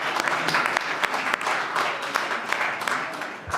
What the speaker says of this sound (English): a round of applause for some students here that have come out tonight